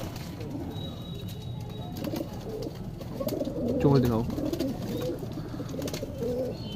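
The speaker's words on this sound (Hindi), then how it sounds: "ये कलपोटिया कबूतरी है" A Kalpotiya female pigeon coos in low, soft bursts, strongest near the middle, close by in a loft, with someone talking over much of it.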